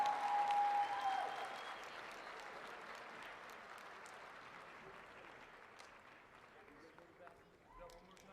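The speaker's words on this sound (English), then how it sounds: "make a warm round of applause for the cast" Audience applause at a Planet Comicon Kansas City panel, a dense patter of clapping that starts strong and gradually thins and fades, with faint crowd noise underneath.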